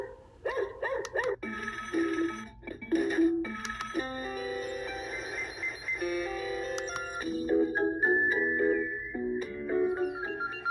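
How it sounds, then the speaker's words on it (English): MikoDream kids alarm clock playing several short electronic tunes one after another, bright beeping melodies with brief pauses between them, close and clear with no talking. "And of course, there's the music. You've got 5 choices. Listen up."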